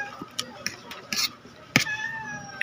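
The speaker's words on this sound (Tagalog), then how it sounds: "Nangingi ang pusa." A cat meows a couple of times close by, one longer drawn-out meow standing out among soft clinks and background noise.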